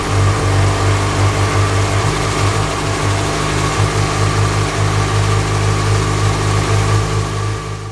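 A motorcycle engine running steadily at idle after startup during chain and sprocket replacement work, a loud, continuous low rumble close by with no break.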